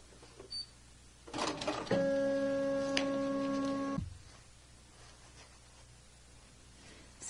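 A home embroidery machine stitches a can koozie in the hoop, giving a steady, close whirring hum with a fast, regular stitching tone for about two seconds before it stops abruptly.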